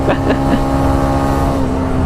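A TVS XL 100 Heavy Duty moped engine pulling hard to overtake: a loud, steady, buzzing drone held close throughout, with a few short voice bursts at the start.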